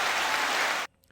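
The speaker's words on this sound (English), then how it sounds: "I'm gonna give you some applause for that one" Applause from a crowd, dense clapping that fills the moment and then cuts off abruptly into near silence.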